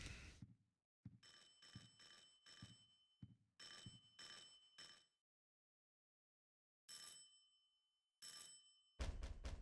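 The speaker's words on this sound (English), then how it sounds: "Oh, somebody's ringing my doorbell." A doorbell in the game Silent Hill 4 rings in repeated bursts, several close electronic trills in a regular rhythm with gaps of silence between groups, fairly loud and alone.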